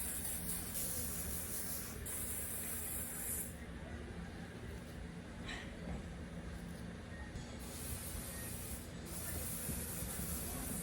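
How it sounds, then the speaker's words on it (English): Hairspray hisses from an aerosol can onto hair pulled into a tight high ponytail, two steady sprays of a few seconds each heard close over a constant low background noise. "So I'm spraying and then just brushing everything up and back."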